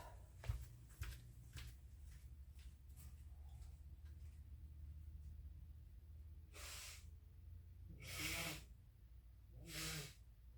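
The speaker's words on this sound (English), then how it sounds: "I'm going to go in here and blow my nose real quick." Nose blown into a tissue during a break from UV resin jewelry work, three rough breathy bursts near the mic, one short and two longer, after some faint ticking and handling noises.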